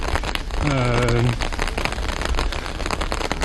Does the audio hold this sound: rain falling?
yes